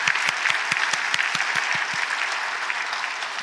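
Congregation clapping at a Sunday church service, a steady, dense wash of applause with a few sharper individual claps standing out near the start before it thins slightly toward the end.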